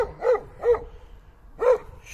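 Stray dogs roaming a neighborhood in Doğubeyazıt, Ağrı bark in three separate short yelps, the first two close together and the last after a pause, at moderate distance with no talk.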